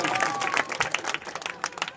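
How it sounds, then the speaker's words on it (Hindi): Audience at a mushaira, a poetry gathering, applauding in a burst of uneven clapping with some crowd noise and voices mixed in, moderately loud. "एक बार जोरदार तालियां बजाइएगा"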